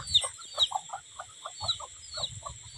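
Domestic chickens let out in the early morning cluck in a loose, irregular series of short, fairly soft calls close by, with occasional higher squawks and no talking.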